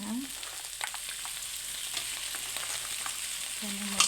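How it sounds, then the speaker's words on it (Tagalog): Crab cooking in a pan for ginataang alimasag, a steady broadband sizzle with faint stirring clinks and a brief low hum at the start and end, no voices. "Ang niluluto ko ay alimasag."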